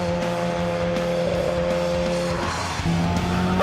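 A Mazda RX-7 with a 13B rotary engine, turbocharged at 0.5 bar boost and making about 600 horsepower, drones loudly and continuously at close range, its engine tone steady with a pitch shift near the end and no voices.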